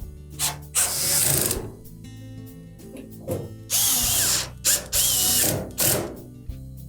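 A power drill drives screws into a Samsung dryer drum bulkhead during thermal fuse repair, with several loud whirring bursts of about a second each, separated by brief pauses and clicks, close up and with no talking.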